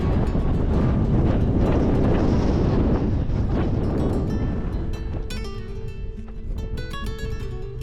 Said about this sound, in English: the wind's definitely picked up